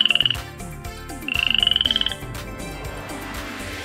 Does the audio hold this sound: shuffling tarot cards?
no